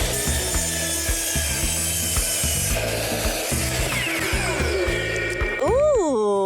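A power saw cuts through wood boards clamped together for a picture ledge, rhythmic rasping strokes running steadily and close, ending with a rising whine as the blade spins down.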